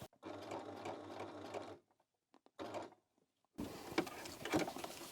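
A sewing machine stitching over the spine of a journal made from used envelopes, a short burst of fast whirring, then a brief stop with faint clicks, another short run, and rustling handling of the paper at the end.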